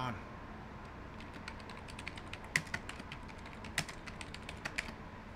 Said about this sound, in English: Let me go ahead and type this down.